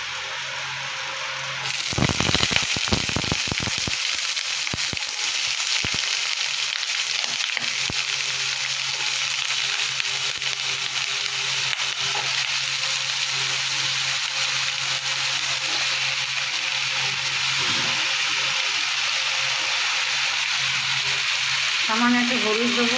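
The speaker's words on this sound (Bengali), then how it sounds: "কড়াইতে আমি তেল গরম করতে বসিয়ে দিয়েছি। এবার আমি আলুটা ভেজে নেব।" Diced potatoes hit hot oil in a wok and sizzle loudly and continuously, a harsh bright hiss that stays steady for about twenty seconds, with occasional stirring scrapes and faint talk.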